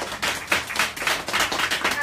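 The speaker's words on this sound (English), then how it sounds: "Let's give Kim Poole a hand, y'all" A crowd claps steadily and enthusiastically, a dense patter of many hands close by, with no pauses.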